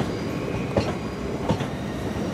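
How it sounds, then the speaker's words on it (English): A seven-coach train rolls through Brighton station, a steady rumble with soft rail clicks at regular intervals, fairly close and alone without voices. "Oh, there goes another seven train."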